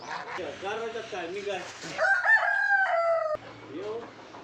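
A village rooster crows loudly in a single drawn-out call in the middle, with clucking before and after, close by, while people talk throughout.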